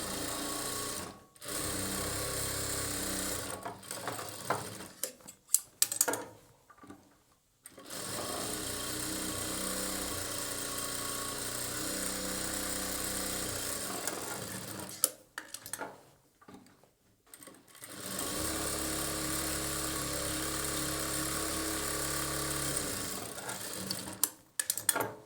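A sewing machine stitches the bottom of a churidar in long continuous runs, loud and close, broken by short pauses where the stitching stops between bursts.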